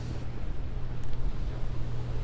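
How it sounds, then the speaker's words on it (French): A sailing boat's engine drones low and steady while heading from Camaret toward Roscoff in a force 6 southwest wind, with gusty wind buffeting the microphone throughout and no speech. "Je sais pas si t'entends le moteur, Michel"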